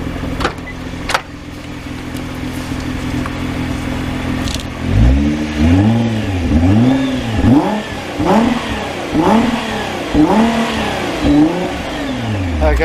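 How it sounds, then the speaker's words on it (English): A car with a stock exhaust idles, then gets several sharp revs in a row, each engine note climbing and falling back, loud and close in a dealer's yard in Japan. "I'll give it a couple of revs"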